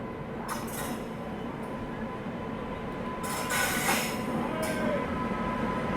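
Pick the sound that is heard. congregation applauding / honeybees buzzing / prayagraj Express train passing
prayagraj Express train passing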